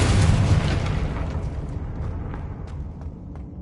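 A Confringo fire spell explosion in the Hogwarts Legacy video game, a loud booming blast at the start that rumbles and decays over a few seconds with small crackling pops.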